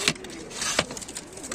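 Pigeons for sale, soft low cooing under a couple of brief higher bird chirps, close and fairly quiet over a short moment.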